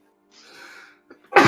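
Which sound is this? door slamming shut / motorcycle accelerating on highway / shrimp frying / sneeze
sneeze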